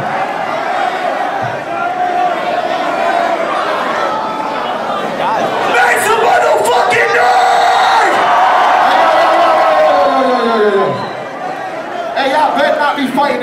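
A concert crowd at a show roars and cheers continuously, a dense wall of shouting, whooping and chatter that swells and stays loud throughout, heard from within the crowd.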